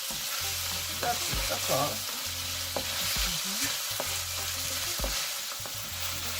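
Peppered steak strips stir-frying in a hot pan, a steady sizzle broken by repeated scraping strokes of a utensil at close range, with a short remark spoken over the cooking.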